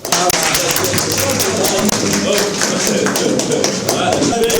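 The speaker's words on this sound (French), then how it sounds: "C'est par des applaudissements nourris que ce chauffeur routier est accueilli par les siens." A family greets a returning truck driver with sustained clapping, dense and close, with some voices mixed into the noise for the full few seconds.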